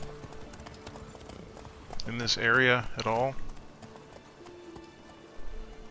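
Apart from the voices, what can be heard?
horse hooves clip-clopping while riding in The Witcher 3 video game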